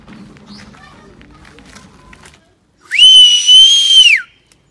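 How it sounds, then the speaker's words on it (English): A person whistles one clear, loud, sustained high note for about a second and a half, with a brief dip in pitch at the end. Before it, quieter outdoor movement and faint voices are heard in a rural village. "Whistling is to emit a clear, high-pitched sound by forcing breath through a small hole between one's lips or teeth."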